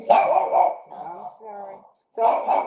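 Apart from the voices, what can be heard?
dogs barking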